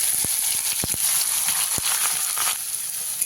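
Potato and flour mixture frying in a pan, a steady bright sizzle with occasional sharp pops and spatters, close and continuous with no talking over it.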